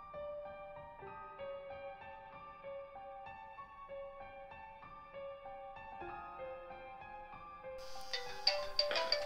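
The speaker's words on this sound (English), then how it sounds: "Phone call." A phone rings with an incoming call, a repeating melodic ringtone pattern playing steadily for several seconds, fairly loud and clear, with a brief burst of other noise near the end.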